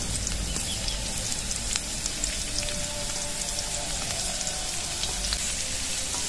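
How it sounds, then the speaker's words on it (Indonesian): Sliced shallots and garlic fry in a pan for peanut sauce, giving a steady, even crackling sizzle that holds close and moderately loud throughout, with a few sharper pops. "Bawang merah dan bawang putihnya kita masak sebentar sampai sedikit kecoklatan."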